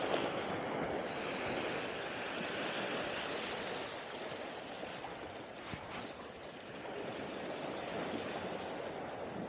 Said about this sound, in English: Got to work with these waves.